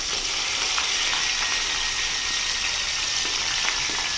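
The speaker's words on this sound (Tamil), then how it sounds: "தக்காளியை நல்லா கீழே இருந்து நல்லா பரட்டி விடணுங்க." Tomatoes fry with tamarind and salt for a pickle, a steady, dense sizzle that holds the same loudness throughout with no voices.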